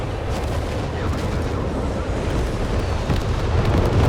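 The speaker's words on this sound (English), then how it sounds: "the whiz-bangs just fire off rocket after rocket here" Rocket artillery firing in the Company of Heroes 3 video game, with a continuous roar of launches and rumbling booms, loud and dense, with a voice faintly underneath.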